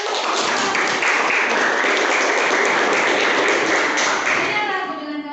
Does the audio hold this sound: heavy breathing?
no